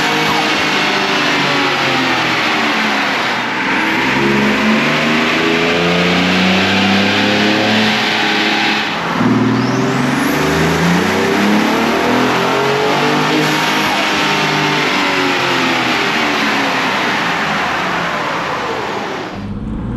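A Gen 2 Ford F-150 Raptor fitted with a Whipple Stage 1 supercharger revs hard on dyno rollers, its loud engine climbing through repeated sweeping pulls with supercharger whine, steady and close without a break.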